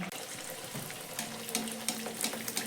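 Puri dough drops into hot refined oil in a kadai and fries with a loud, bubbling hiss that swells with sharper crackles and spits, close up with no talk.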